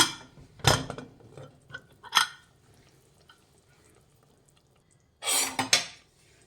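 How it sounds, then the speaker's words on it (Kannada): A pressure cooker lid is opened after cooking chicken and field beans: sharp metallic clanks and scrapes ring out in separate bursts, with quiet gaps between, and a longer rattling clatter near the end. "ಕುಕ್ಕರ್ ಆರು ತಣ್ಣಗಾಗಿದೆ ಲಿಡ್ ಓಪನ್ ಮಾಡೋಣ"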